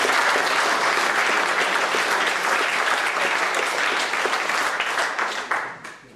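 Loud, sustained applause from a large audience at a revue show, clapping steadily before tapering off at the end.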